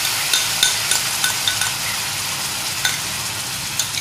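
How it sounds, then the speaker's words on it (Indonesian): Steady sizzling of garlic frying in a hot wok, with occasional light clinks of a utensil stirring, close and continuous. "Kita panaskan dulu wajan dan kemudian kita langsung tumis dari bawang putihnya."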